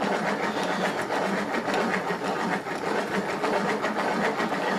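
A batter mixer and dispenser whirs steadily as it blends pancake and waffle batter, a continuous mechanical churning with a fast rhythmic clatter, close and fairly loud throughout with no talking.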